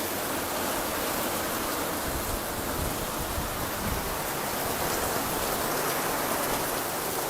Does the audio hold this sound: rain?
yes